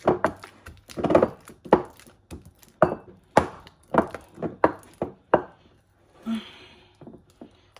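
Softened cooked ingredient is pounded for Nigerian oha soup, a run of about a dozen sharp, close, irregularly spaced thuds, with a brief faint voice near the end.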